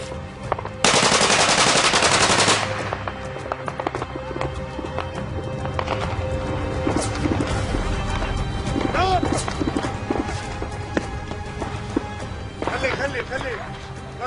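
Rapid bursts of gunfire during a prolonged exchange of fire in a Middle Eastern conflict, a loud dense volley early on, then scattered shots continuing under frantic shouting and talk.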